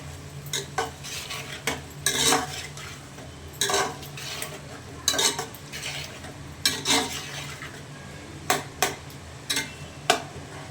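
A spoon stirs chicken pulao in a pot, scraping and clinking against the metal in an irregular rhythm over a low background hum.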